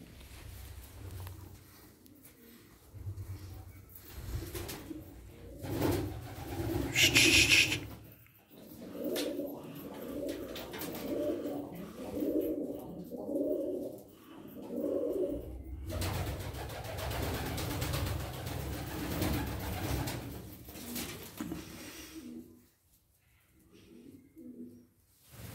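Tumbler pigeons cooing in a loft, a steady chorus of soft repeated coos close by, with a brief flutter and a few knocks, fading near the end.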